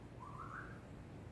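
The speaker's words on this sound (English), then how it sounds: "You can hear my bird in the background, making all kinds of weird whistles." A pet bird named Cheech whistles in the background, a single faint, brief rising whistle over a steady low room hum.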